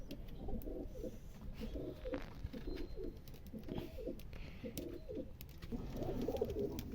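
Large Ghazi-breed pigeons coo in a steady series of low, throaty, repeated calls, fairly close and continuous over a rooftop loft's ambient hum, with no talking.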